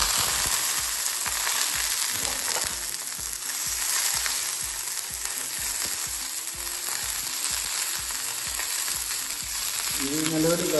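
Small onions sauté loudly in ghee as a dense, continuous sizzle with rhythmic stirring taps underneath. No voices are present.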